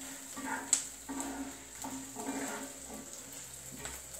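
Three small chopped green chillies fry in a pan for an aval (flattened rice) snack, giving a soft, steady sizzle with light stirring scrapes and a brief clink, quiet and close.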